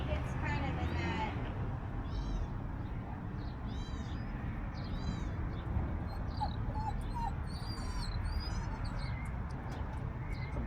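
A bird calls repeatedly with short, mewing, cat-like notes during an indoor dog nosework class, fairly faint over steady background noise while people talk.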